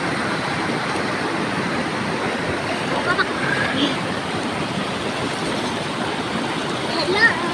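Bolinao Falls, running strong with a powerful current, gives a steady, loud roar of rushing water that fills the whole stretch without a break.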